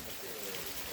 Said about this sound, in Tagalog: Ang mga ibon nandoon sa atip.